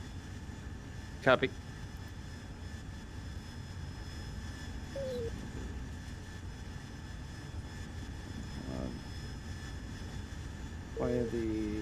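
A Harrier jet's engine hums as a steady, constant drone in the DCS flight simulator, with brief radio calls and voices speaking over the engine noise.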